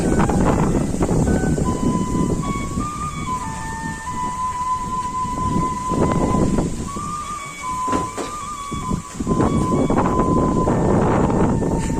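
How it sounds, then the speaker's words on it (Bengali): Strong wind batters an outdoor spot in a fierce storm, a constant rough roar with gusty surges. A thin whistling tone wavers on top, and no one speaks. "দিনের আবহাওয়া খুবই ভয়াবহ অবস্থা, প্রচন্ড বাতাস"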